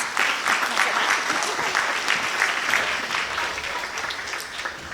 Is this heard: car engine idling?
no